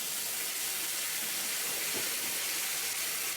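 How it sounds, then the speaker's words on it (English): Pork belly searing in a hot pan with braising liquid added, a loud, dense, continuous hiss of sizzling and steam that holds steady with no talk over it. "What that's creating is moisture and steam."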